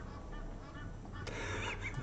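Ducks honking outdoors in the morning, a few loud nasal honks breaking out near the end over a steady background hum.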